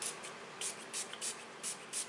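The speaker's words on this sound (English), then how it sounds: "let me spray" Spray can hissing in short repeated bursts, about six quick sprays in a steady rhythm, close and fairly faint, with no talking.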